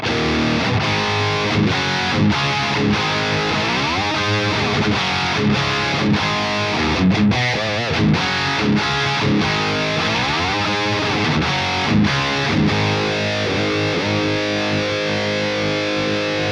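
Loud, continuous audio through a BDM800 Bad Boy distortion preamp plugin, gritty and saturated, running without pause for the whole stretch, with brief dips but no talking.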